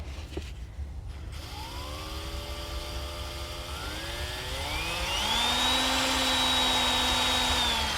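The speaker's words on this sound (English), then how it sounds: "Nick's making a hole in the sump pump basin" A power drill bores a hole in a sump pump basin outdoors, its whine rising in pitch in steps and growing louder as it bites, with a short clatter of handling at the start and no voices.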